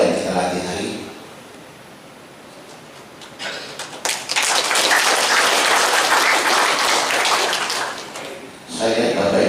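Audience applause at a Majelis Rakyat Papua inauguration ceremony, a loud burst of clapping filling several seconds after someone speaks over a PA, then fading as his voice returns.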